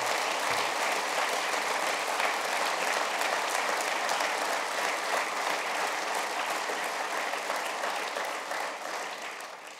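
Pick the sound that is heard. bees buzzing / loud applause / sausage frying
loud applause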